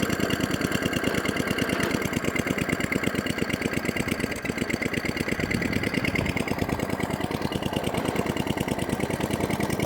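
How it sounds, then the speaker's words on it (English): An Atco Balmoral cylinder lawn mower engine runs steadily at close range, a fast even chugging with a knocking edge and little throttle, continuous and loud throughout with no talk. "straight off the bat, it's already running better. The cylinder is still running, it's still moving."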